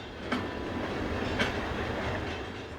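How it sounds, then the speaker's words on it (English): A French freight train hauled by a 6501-class locomotive rolls out of Saint-Jean-de-Maurienne rail yard, wheels clicking over rail joints in a steady rumble with a couple of sharp clacks, no voices. "Pioneer 6501 is seen heading out of Saint-Jean-de-Maurienne Yard with the trip freight for Lyon-Sibila"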